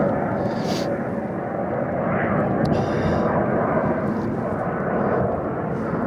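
A group of fighter jets passes high overhead outdoors, giving a steady, broad, distant roar that keeps on for the whole stretch, and a voice speaks over it at times.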